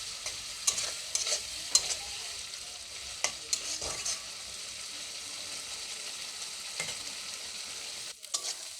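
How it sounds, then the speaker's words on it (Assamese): Potatoes frying with spices in a pan, a soft continuous sizzle broken by scattered scraping clicks as a utensil stirs them, close and fairly quiet, with no talking. "আৰু এতিয়া মই আলুখিনি মছলাখিনিৰ সৈতে ভালকৈ ফ্ৰাই কৰি ল'ম।"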